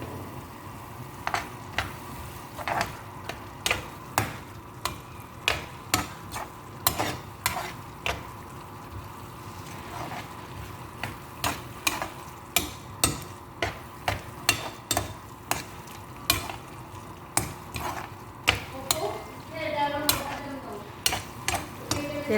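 A spoon scrapes and knocks against a pan in a repeated, fairly regular rhythm over a low simmer while macaroni sauce seasoned with pepper, salt and curry powder and thickened with tomato paste cooks.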